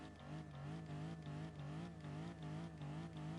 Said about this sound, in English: I'm going to sit just like this and rev the engine